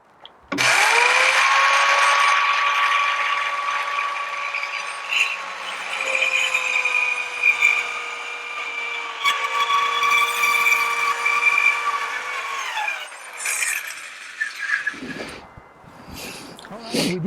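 Power saw cutting through a piece of scrap wood for a DIY floor lamp, one sustained loud whining cut of roughly twelve seconds that winds down, followed by brief handling clatter.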